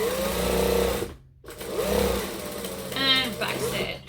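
A home sewing machine back stitches a book bag backpack, its motor whirring in short bursts that start, stop and restart, with a voice talking over it.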